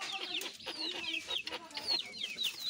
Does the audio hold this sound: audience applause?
no